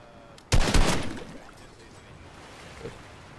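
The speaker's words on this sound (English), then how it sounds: "It's only me firing." A short, loud burst of rapid automatic gunfire from the player's own weapon in the video game Fortnite, lasting about half a second and then fading into quiet in-game ambience.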